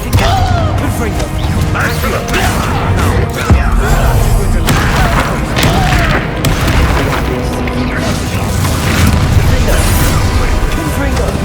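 Confringo blasting curses go off repeatedly in Hogwarts Legacy during a troll fight: dense, overlapping booms and crashes keep up without a break, mixed with game noise and some voices.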